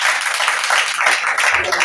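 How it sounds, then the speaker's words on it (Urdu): Congregation in a church clapping loudly and steadily, a dense continuous wash of applause with voices mixed in. "پرزور تالی بجائیں"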